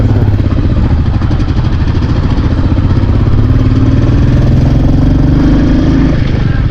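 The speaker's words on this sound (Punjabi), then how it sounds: "ਕਾਫੀ ਹਾਈਟ ਹੋਣ ਕਾਰਨ ਮੋਟਰਸਾਈਕਲ ਦਾ ਫੁੱਲ ਜ਼ੋਰ ਲੱਗ ਰਿਹਾ" A motorcycle engine labors at high altitude on a mountain road, with a loud, steady, low throbbing drone, close by and unbroken throughout.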